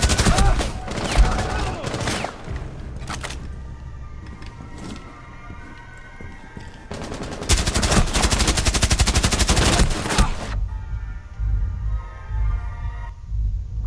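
Gunfire in Rainbow Six Siege at a café map in a hostage match: long rapid automatic bursts, loud and close, broken by single shots and quieter gaps with a rising electronic whine.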